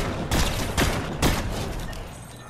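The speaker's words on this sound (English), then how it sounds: "I swear the shotgun sounds like it's getting louder with each blast I do" Three loud shotgun blasts from the video game Fortnite fire at a steady pace, each with a sharp crack and a lingering rumbling tail.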